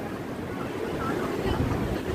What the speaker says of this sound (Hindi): सीधा बर्फ वाला पानी आ रहा है, बर्फ वाला पानी।